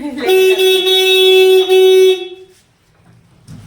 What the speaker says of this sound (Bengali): দাঁড়াও হর্ন বাড়ার কি আছে আমি যাচ্ছি তো